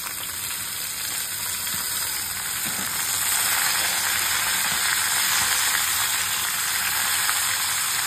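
Ivy gourd (tendle) fries in a hot pan with a steady, close sizzle that swells a little partway through, with faint scraping of stirring underneath.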